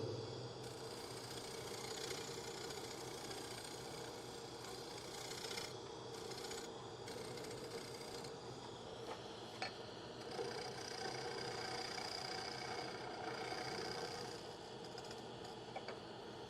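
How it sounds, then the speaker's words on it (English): A turning tool held in a shear scrape rasps across a spinning wooden bowl on a lathe, producing a continuous gritty scraping over the machine's steady hum, with brief lifts and small knocks along the way. "Holding it down like this makes it a shear scrape."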